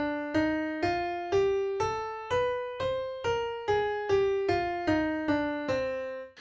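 A melodic minor scale is played note by note on a pitched instrument, likely piano, each tone struck and decaying, rising step by step and then descending again in an even, steady rhythm with no talking.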